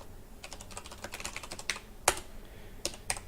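Fingers typing on a computer keyboard, a quick uneven run of light, close key clicks with brief pauses between bursts and one sharper keystroke near the middle, heard alone with no voice.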